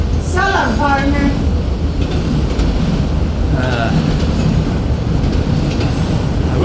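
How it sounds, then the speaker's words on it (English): A loud train sound effect plays during a stage melodrama, a constant rumbling roar with clattering wheels and brief squealing tones, with voices talking over it. "I wish that train would get out of here."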